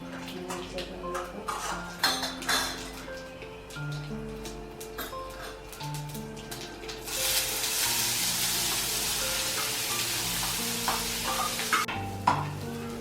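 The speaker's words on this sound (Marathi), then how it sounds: "तेल गरम झालं मग आपण याच्यामध्ये जिरे टाकते मी" Cumin seeds sizzle in hot oil in a pan, a bright steady hiss swelling loudly midway, mixed with clinks and scrapes of a spoon against the pot and a low background hum.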